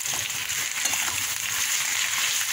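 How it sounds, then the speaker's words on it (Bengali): Potatoes frying in a pan with a spice paste, a steady close sizzle and crackle of hot oil that holds throughout, with no voices. "এই মশলাটা দিয়ে এবার আলুটাকে কষাবো।"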